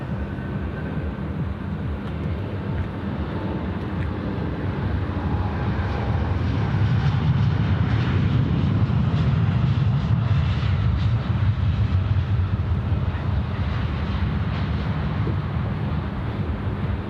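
An All Nippon Airways airliner at Sydney Airport rumbles past, a broad low engine roar that swells around the middle and lingers steadily, with no voices over it.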